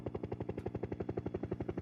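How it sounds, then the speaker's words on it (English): A helicopter's rotor chop played back as a recording, a steady rapid rhythmic thumping of blades at moderate level with no talk over it. "Oh, chopper."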